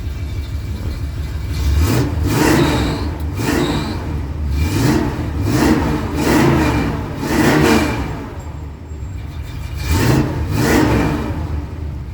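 Repeated throttle revs from a 1976 Ford F150 4x4 pickup, about half a dozen rising engine surges over a steady idle, recorded close with no talking.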